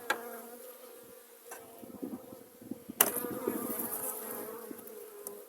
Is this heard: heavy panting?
no